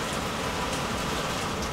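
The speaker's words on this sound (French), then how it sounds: "Oh, la pluie, elle fait pas semblant, là." Heavy summer rain pours down in a forest campsite, a dense, steady, close hiss of drops on leaves and ground filling the whole moment, with no voices.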